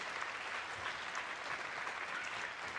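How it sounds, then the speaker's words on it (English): Steady applause from an audience at a school orchestra club event, a continuous wash of clapping that holds at an even level the whole time. "can we please clap for Mr. Blackwood, who is the owner of Lee County Center for the Arts?"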